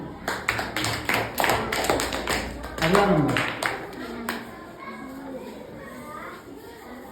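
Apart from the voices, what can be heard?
classroom clapping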